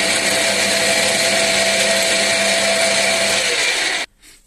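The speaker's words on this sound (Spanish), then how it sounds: "ahora ya una vez que la tenemos, pues le hacemos el taladro en el centro." A centering drill bit bores a centre hole in a hobby workshop, making a loud, steady high-pitched whine for about four seconds before stopping abruptly.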